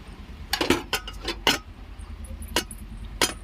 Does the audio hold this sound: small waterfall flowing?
no